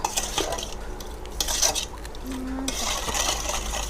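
Spoon stirring a fresh Thai-Lao style blue crab seafood salad in a bowl, with scraping, clinking strokes in irregular bursts close up, over a low steady background hum.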